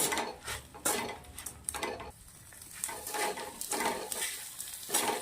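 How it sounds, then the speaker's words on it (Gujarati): Yellow South Indian lemon rice with fresh coriander being mixed in a pot, repeated scraping and clinking of a spoon against metal in an uneven rhythm over a faint sizzle, fairly quiet and close. "હવે આપણે એને સરસ મિક્સ કરી દેવાની છે"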